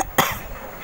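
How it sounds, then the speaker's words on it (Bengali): A single sharp cough from someone with a cold, close and short, followed by a faint trailing breath in a quiet indoor space. "ঠান্ডা কাশি হয়ে গেছে"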